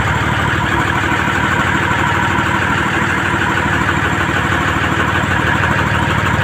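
A Mercedes-Benz 911 truck engine idles smoothly and loudly up close, a constant even rumble with steady low throb and no break or voices.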